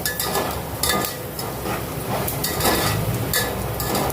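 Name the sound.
nylon sago pearls roasting and stirring in a pan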